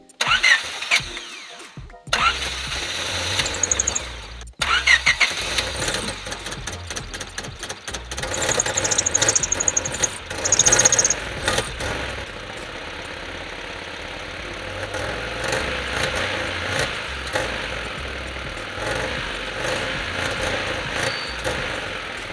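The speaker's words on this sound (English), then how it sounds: "So the car had a real hard time starting up and didn't want to even take gas" Honda Civic EK hatchback engine cranking in several rough bursts with pauses before it catches, then settling into a steady, somewhat uneven idle, heard close up with no talking.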